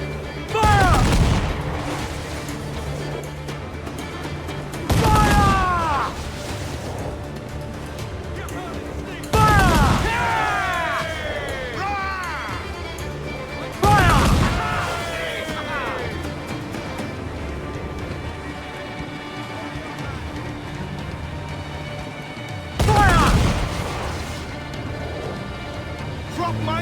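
Ship cannons firing in Assassin's Creed Black Flag: five heavy, loud broadside blasts spaced several seconds apart, each with a rolling decay, amid shouting voices and background battle noise.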